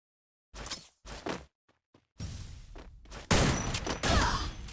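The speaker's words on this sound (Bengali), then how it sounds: "যে কি হেডশট দিল আমার ঈশিতা।" Gunfire from the battle-royale video game Free Fire comes as sharp, close shots. A few short bursts are broken by gaps, then denser, louder volleys follow toward the end.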